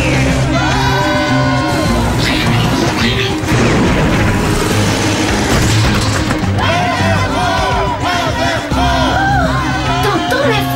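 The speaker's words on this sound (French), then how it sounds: "T'entends la foule?" A big crowd cheers and yells without pause, loud and dense, with booming hits and overlapping shouting voices throughout, in an animated series scene.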